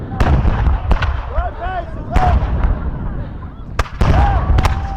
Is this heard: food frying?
no